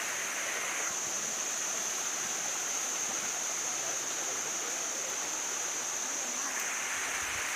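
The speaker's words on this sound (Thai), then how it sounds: "นี่เป็นน้ำตกชั้นที่หนึ่งครับผม" Bua Tong waterfall, first tier, rushing water pouring in a dense steady roar, close and constant throughout with no voices.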